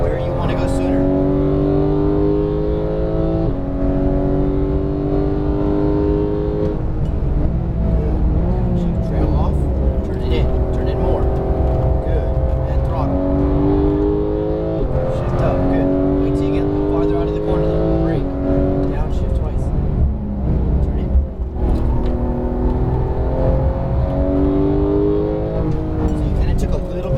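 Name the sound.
Porsche GT3 991 engine accelerating on race track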